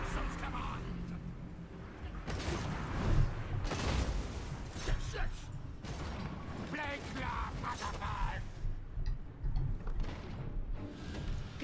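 Artillery fire in a Total War: Warhammer battle, with a jumble of cannon booms, crashes and clanking mechanisms under a steady game soundscape, while a voice talks over it.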